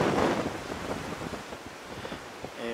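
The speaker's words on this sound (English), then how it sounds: "Wow, that's windy." Strong wind buffets the microphone at an outdoor Cold War radar station site, a continuous loud roar with gusty swells and no speech.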